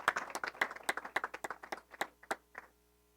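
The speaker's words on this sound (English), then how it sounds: "Feel free to clap" At a senior art exhibition awards event, a small audience claps for a second-place winner, a short flurry of distinct, fairly close handclaps that thins out and stops after about three seconds.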